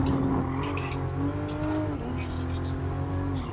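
A Toyota Supra lapping the Nürburgring in a racing video game: a steady engine drone that shifts pitch as the revs rise and fall, continuous and close throughout.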